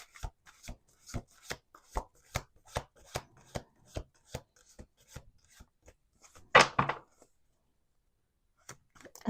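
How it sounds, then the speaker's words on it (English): Cards riffle and snap down in a steady series of quick, crisp taps, followed by a louder rustling shuffle and then quiet. "Let's do 2 more shuffles."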